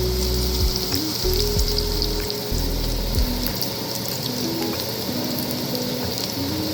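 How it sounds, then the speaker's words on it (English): Garlic and onion fry in butter and olive oil in a pan, giving a steady, dense sizzle with a few low knocks early on. No one speaks. "Let this fry for 2 more minutes"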